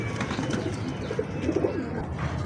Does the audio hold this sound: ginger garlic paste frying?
no